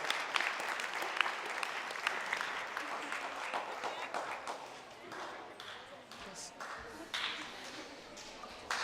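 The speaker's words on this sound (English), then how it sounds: "In big round of applause for the West Arctic Sports." A crowd at the 2016 Arctic Winter Games Arctic Sports event claps and applauds steadily for several seconds, a dense patter of hands that thins slightly toward the end, with a voice over it.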